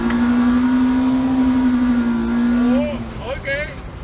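K-series swapped Honda car accelerating hard, a loud steady engine drone holding pitch before the note shifts and climbs near the end, with voices talking over it.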